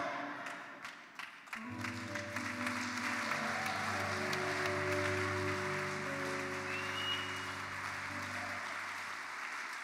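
A church congregation applauds during a service, clapping swelling into sustained, dense applause that continues to the end, with a steady musical tone held underneath.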